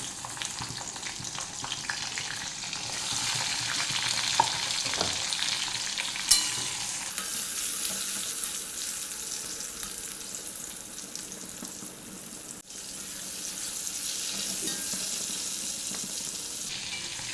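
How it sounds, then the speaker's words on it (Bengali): Eggplant pieces fry in hot oil, a steady close sizzle running throughout with occasional crackles and a brief stir or clatter, no voices. "এবার এই তেলের মধ্যে আবার আমি বেগুনটাও ভেজে নেব একটু"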